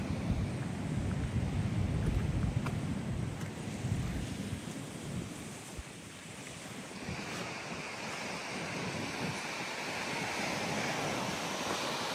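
Sea waves wash along the coast at Devgad by a coastal road, a steady broad surf roar with wind, moderately distant and continuous with no voices.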